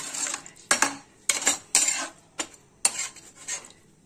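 Egg biryani being stirred and mashed in a pot, with about seven sharp metal-on-pot clanks of a spoon in an uneven rhythm, each followed by a brief scrape, close and clear with no talking.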